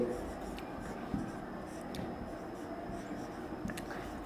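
Chalk or marker writing on a classroom board during a chemistry lesson, producing faint scratchy strokes in short bursts under a steady background hum, with a teacher's voice heard faintly.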